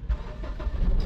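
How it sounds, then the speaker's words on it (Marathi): A car engine is self-started during a Chennai to Mumbai road trip, giving a short rumbling crank and catch that is close and fairly loud over about a second, with no talking. "गाडी सेल्फ मारूया"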